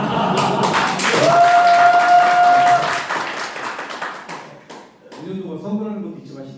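Clapping at a school site visit by a provincial education committee, a loud roomful of hands under a sustained tone, fading as people begin talking.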